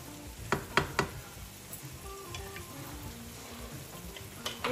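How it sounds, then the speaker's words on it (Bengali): Chicken gizzard, liver and potato sauté in a pan with a steady crackling sizzle, broken by a few sharp spatula taps and scrapes as the mixture is turned, close and fairly quiet. "এখন এটাকে আমি খুব ভালো করে কষাবো।"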